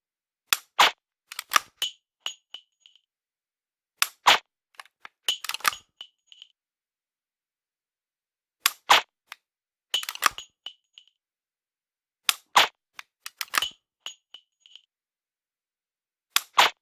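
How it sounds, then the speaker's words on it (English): During laser dry-fire training, a Glock pistol's trigger clicks and resets in short clusters of sharp, crisp metallic snaps, close and clear, separated by silent gaps. "Just have to pull it just enough to reset the trigger"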